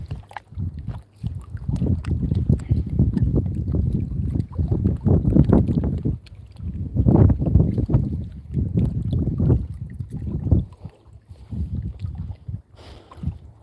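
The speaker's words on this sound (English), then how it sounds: "That wind's starting to get a little nipply out here." Gusting wind at a lake campsite buffets the microphone in rough, uneven rumbling waves that swell and ease over several seconds, close and fairly loud, with no clear speech.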